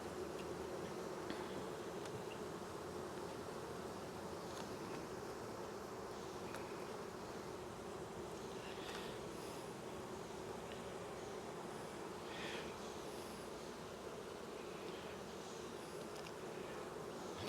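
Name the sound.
honeybees buzzing in a hive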